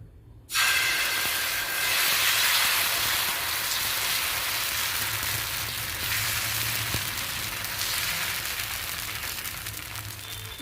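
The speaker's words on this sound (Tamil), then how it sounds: "மாவில் போட்டு தோசை போச்சு தோசை ஊற்றுறோம்" Tomato dosa batter, mixed with lightly sautéed onion and coriander, sizzles on a hot griddle. The hiss is a steady, broad, close sizzle that starts abruptly and continues alone without talk, easing slightly toward the end.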